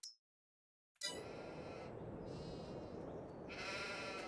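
Sheep bleating in the farming video game Farming Simulator 22, a loud sustained bleat starting after a second of silence and running to the end, with a brighter second cry near the finish.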